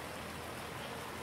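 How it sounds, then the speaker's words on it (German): Rain falls in the farming game Landwirtschafts-Simulator 19 as a soft, steady hiss without distinct drops, faint and continuous throughout. "weil es jetzt regnet"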